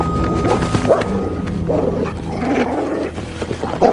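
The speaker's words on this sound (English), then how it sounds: "We'll call that dog off if you keep your seat." A dog barks and growls loudly and close by, in a fierce, agitated burst that runs throughout the short span with no speech over it.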